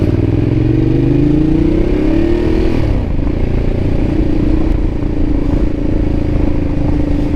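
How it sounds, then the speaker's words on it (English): Ducati Diavel motorcycle cruising on a highway beltway, a loud close engine drone with a rising then settling pitch as it shifts, wind rush underneath throughout, no talk. "let's go for a ride on the Beltway on the Diavel"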